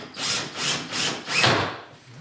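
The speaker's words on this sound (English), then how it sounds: "drilled some holes, then drove some screws in the back" A power drill bores holes and drives screws into the back of a wooden desk, four close, loud rasping bursts in quick succession with no talking.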